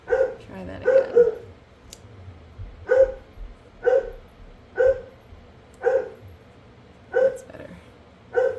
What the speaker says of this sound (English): Now you can hear my dog barking, because my kids were going nuts, and so the dog chimes in.